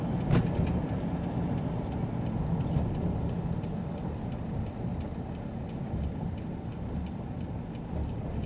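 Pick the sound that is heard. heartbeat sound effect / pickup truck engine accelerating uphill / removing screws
pickup truck engine accelerating uphill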